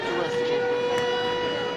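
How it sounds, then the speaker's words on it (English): Air raid sirens wailing at a Kharkiv train station, a sustained steady tone over crowd noise, with a voice briefly heard beneath it. "air raid sirens, as if they needed a reminder of why they were going."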